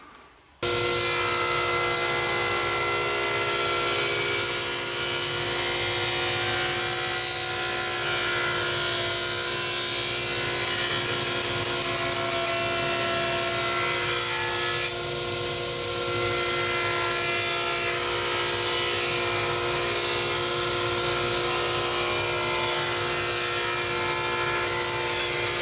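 A table saw blade cuts a rabbet along strips of cherry wood, a loud, continuous whining buzz that holds steady for the whole stretch, with only a brief dip partway through.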